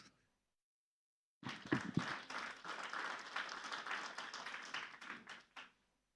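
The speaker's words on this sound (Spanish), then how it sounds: "Recibamos con un fuerte aplauso." Church congregation applause at a Sunday service welcoming singers, starting abruptly after a silence, steady many-handed clapping that holds for about four seconds and then cuts off.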